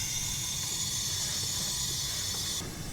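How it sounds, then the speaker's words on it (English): Running water for handwashing with soap, a steady close hiss that holds evenly, then cuts off abruptly near the end. "Wash your hands using soap and water for 1 minute."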